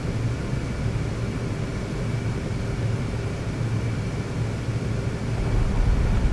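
Turboprop drone of a C-130 Hercules landing in the DCS World flight simulator, a steady loud broadband roar with a constant low hum that swells slightly toward the end, with no talking.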